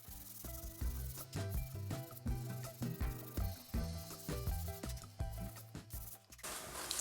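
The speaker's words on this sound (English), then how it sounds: "sandpaper" Sandpaper scrubs black paint off a wooden dresser in brisk back-and-forth strokes, each a close, rough, rhythmic rasp, ending in one longer hiss.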